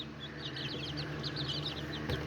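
Small Azteca and Serama chickens and a rooster cluck and chirp in quick, scattered bursts against steady low background hum, the calls moderately close and continuous throughout.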